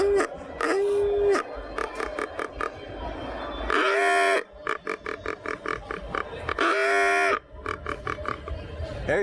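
A hunter's hog call imitating a wild hog, with repeated short rhythmic grunts broken by two longer, loud squeals, close and alone without talk.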